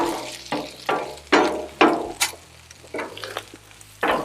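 Fried rice and corn on a Blackstone griddle, with a spatula scraping and tapping in a quick series of sharp strokes over a low sizzle, with music playing underneath.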